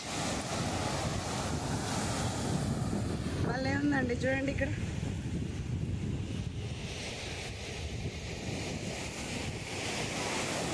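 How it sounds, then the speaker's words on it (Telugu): Large ocean waves roll onto RK Beach in Vizag as a constant loud wash of surf, mixed with wind buffeting the microphone, while a person talks briefly over it. "అలలు పెద్ద పెద్ద అలలు వస్తున్నాయి ఒక్కొక్కసారి"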